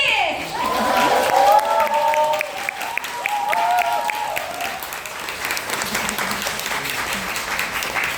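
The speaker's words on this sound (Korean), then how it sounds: "강의신 한주엽님께 다시 한번 뜨거운 박수 부탁드리겠습니다" An audience applauds a lecturer at a Korean lecture event with a dense, sustained round of clapping that fades slightly toward the end, while a voice speaks over the first few seconds.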